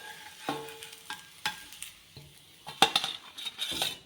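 A rava rotti on a pan is lifted off with a metal utensil: a sequence of sharp scrapes, taps and clinks against the pan over a faint sizzle, close and irregular.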